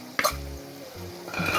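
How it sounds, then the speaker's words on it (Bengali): Spice paste with tomato, salt and a little ground coriander-cumin being stir-fried in a pan for rohu fish dopiaza, heard as short scraping stirs and a soft sizzle, with a clink near the start and a stronger fry toward the end. "এবার এটা মশলাটা এবার কষবো"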